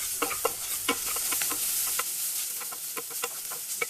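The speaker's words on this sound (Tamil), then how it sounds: "எல்லாத்தையும் போட்டு நல்லா வதக்கிக்கலாம்" Orange peel pieces sautéing with turmeric and spice powders in a hot pan, a soft continuous sizzle broken by scattered scraping and stirring clicks of a spoon, fairly quiet and close.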